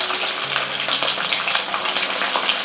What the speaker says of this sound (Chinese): 煎鱼的话呢，火要大一点